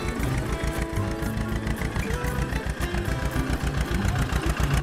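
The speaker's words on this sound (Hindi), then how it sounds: "तब वो ट्रैक्टर रैं रैं करके स्टार्ट हुआ" Diesel engine of a mini brick tractor running with a steady, rapid chugging pulse, loud and close, with no talk over it.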